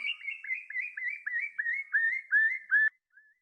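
Recorded bird song slowed to half speed, a series of about a dozen slurred whistled notes repeating in steady rhythm, each note clear and drawn out, then a brief soft final note.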